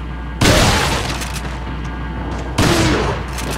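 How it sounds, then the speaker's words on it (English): Two loud, booming shotgun blasts from the Resident Evil 4 video game, about two seconds apart, each followed by a short decaying rumble. "that was just a waste of shotgun ammo at that point"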